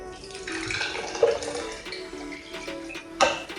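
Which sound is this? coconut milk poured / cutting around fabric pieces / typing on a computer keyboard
coconut milk poured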